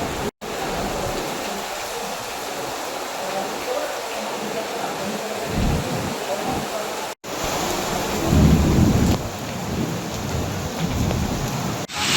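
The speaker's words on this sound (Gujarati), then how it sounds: "પવન સાથે જોરદાર વરસાદ" Heavy rain pouring steadily with wind and low rumbling thunder rolling through over Vadodara, a dense roaring downpour with a louder surge midway.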